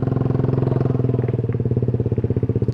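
A motorcycle engine runs close and loud on a trip through the hills around Leuwiliang, West Java, with a steady, even putter of rapid pulses throughout and no talking.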